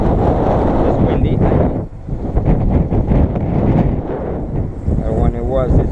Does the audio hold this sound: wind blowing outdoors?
yes